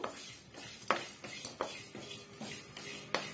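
Pulao spice powder roasts lightly in a dry pan, stirred with a utensil that scrapes and clinks against the metal in a regular rhythm of short strokes, quiet and close.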